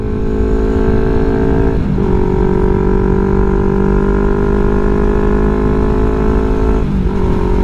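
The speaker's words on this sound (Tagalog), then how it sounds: "Pero pagpatak naman, ang lakas ng motor" A Yamaha R3 version 2 motorcycle engine drones loudly and steadily at high revs, with two brief dips where it shifts gear, recorded up close.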